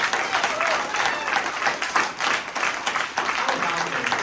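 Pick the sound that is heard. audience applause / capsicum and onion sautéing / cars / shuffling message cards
audience applause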